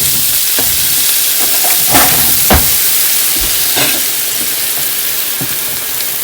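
Cream and pesto stirred together in a hot pan with a wooden spoon: a loud, steady sizzle and hiss with a few scraping strokes and knocks, close up and without talk.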